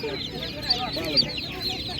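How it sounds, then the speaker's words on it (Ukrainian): Chickens cluck in a steady, close chatter at a rural animal market, with a few sharper squawks standing out over busy farmyard background noise. "У чоловіка на постійній основі є курчатка."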